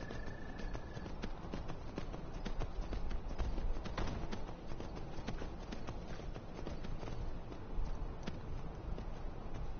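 A horse's hooves clip-clop steadily in the video game Skyrim, a quiet, regular stream of sharp hoof strikes with faint ambient background and no talk.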